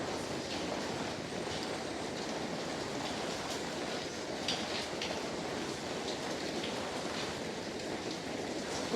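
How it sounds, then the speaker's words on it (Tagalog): Heavy typhoon rain pours down as a steady, dense roar that stays loud and even throughout, with no pauses and no voices. "Kasi antayin natin titila yung ulan."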